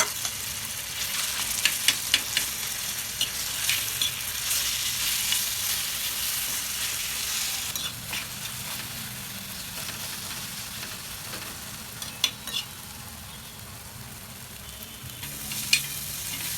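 Eggplant sautéing in a pan with red chili flakes for bharit gives a steady, moderate sizzle, with scattered spoon clicks and scrapes now and then, no voices.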